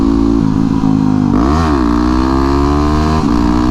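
A 2009 Yamaha WR250X motorcycle engine revs hard during a wheelie attempt, holding a loud steady drone that climbs sharply in pitch, dips back, then settles and rises again, close and with no talking.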